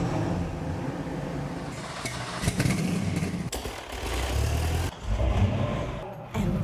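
Engines from Jay Leno's car collection rev hard in bursts, loud and close, surging and dropping with short gaps between throttle blips.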